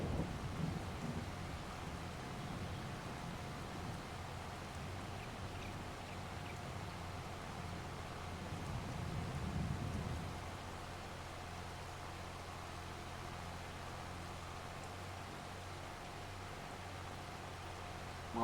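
Rain falls steadily over a farm field, a continuous soft hiss with a low rumble in the first half that eases off, heard alone without voices.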